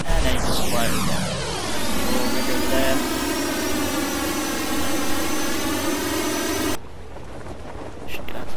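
Hijacked plane in Just Cause 2: a loud jet engine roars up and holds a steady whine for several seconds, then cuts to a quieter engine drone.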